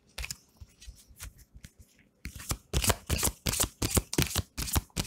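Petit Lenormand cards shuffled by hand, soft riffles at first and then a run of crisp, rhythmic card slaps, close and clear with no talking.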